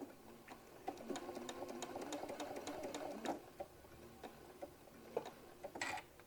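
A sewing machine stitches a hobo bag in quick, even ticking bursts, close and fairly quiet, pausing briefly before starting again, with no talk.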